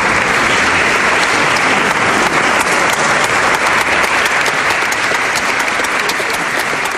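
A studio audience applauds on a Brazilian talk show, a loud, dense and unbroken wash of clapping that stays constant throughout, with no speech over it.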